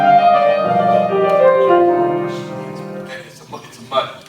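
Fast improvised piano playing with the sustain pedal held down, so changing chords pile up into a muddy, ringing wash of overlapping notes that fades near the end, with a couple of brighter strikes.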